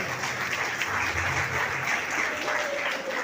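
An audience at a school education festival in Coimbatore applauds steadily, a dense wash of clapping from many hands filling the hall without pause.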